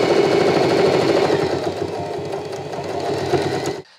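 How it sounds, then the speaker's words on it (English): Steady rapid stitching of a sewing machine running along the folded edges of a washable cloth face mask, continuous and close, slowing slightly before stopping abruptly. "This time when you sew the folds, be certain to sew near the edge of the fold"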